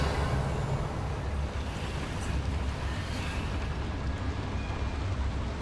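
A Confringo explosion spell in Hogwarts Legacy bursts into a thick, sustained roar of blast and rumble that holds steady and loud throughout, with no voices over it.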